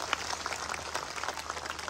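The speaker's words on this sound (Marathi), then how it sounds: "एकदा माईसाठी सगळ्यांचे हात वरती करून जोरात टाळ्या झाल्या पाहिजे." A crowd applauds at a lively Home Minister Khel Paithanicha game-show event. The clapping is a continuous, moderately loud patter that holds steady for about two seconds, with no speech over it.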